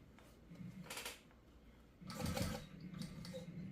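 A sewing machine runs in two short bursts as it stitches a compression stocking while a zipper is fitted, a quiet rapid mechanical whirring heard up close against a low background hum.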